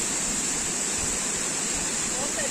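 Ilomska waterfall in a forested rocky gorge, a steady broadband rushing roar heard from nearby, constant throughout with no break.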